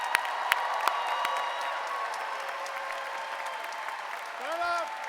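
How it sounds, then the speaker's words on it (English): Applause for the class of 2024 at a Johns Hopkins SAIS commencement ceremony: a large crowd claps steadily and evenly at a distance, with a brief voice near the end. "one more round of applause for our class of 2024."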